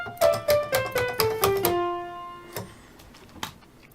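A bass guitar plays the F Lydian scale, eight plucked notes climbing one after another in a steady rhythm, close and clear, followed by a pause and a couple of faint handling taps.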